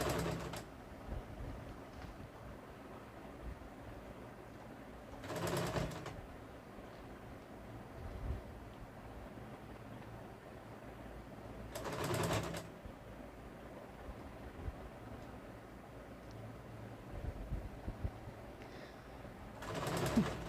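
A sewing machine stitches a folded quarter-inch hem on a small child's garment, a quiet steady mechanical whirr running continuously at a distance, broken by a few louder brief surges of the motor.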